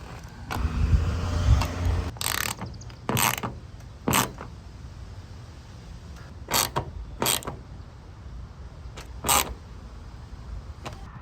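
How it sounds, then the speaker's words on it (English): A 1/4 inch ratchet tightening a roof rail bolt on a Jeep Grand Cherokee WK2, heard as several short, loud bursts of clicking with quiet gaps between, close up and without talk. "I'm just using a 1/4 inch ratchet again."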